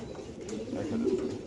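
A white racer hen pigeon coos in low, rolling murmurs, close and steady across the moment, with faint talk in the background.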